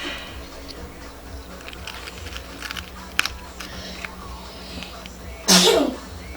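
A single loud, sharp sneeze bursts out near the end, close by, after a stretch of quiet indoor room sound with faint small ticks and rustles.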